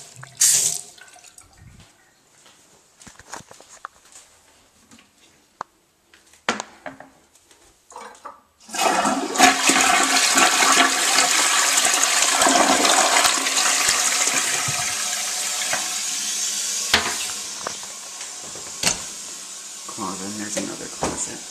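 A Vitromex toilet in a master bathroom flushes with a sudden loud rush of water, then hisses steadily as the tank refills, after a stretch of quiet drips and small clicks.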